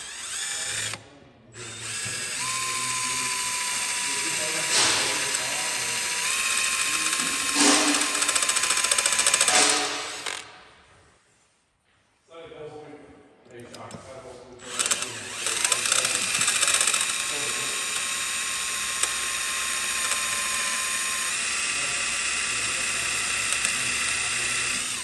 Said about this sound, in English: Put this drill bit to it and hopefully we got it pretty centered.